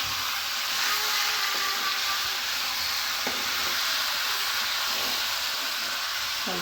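Chicken pieces hit a hot pan and are stirred for a chicken curry, a dense, continuous loud sizzle and steamy hiss with faint scraping of the spoon.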